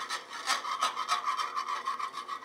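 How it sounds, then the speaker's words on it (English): Stirring gelatin into a heated panna cotta mixture, a rhythmic scraping and rubbing of a utensil against the pan, repeating quickly and steadily, close and clear with no talk. "At this point, you want to put it into the heated mixture to let it dissolve completely and melt. So start your stirring."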